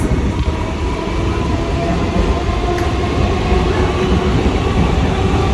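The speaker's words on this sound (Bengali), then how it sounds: "গাইজ এই হচ্ছে ইন্ডিয়ান লোকাল ট্রেন" An Indian local train near Kolkata runs at speed, giving a loud, continuous rumble of wheels and carriage with a steady rattle and no voices over it.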